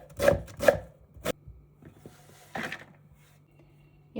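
Vegetables for kuksi are cut into thin strips on a cutting board, a handful of sharp, irregular knife chops close by, separated by quiet pauses.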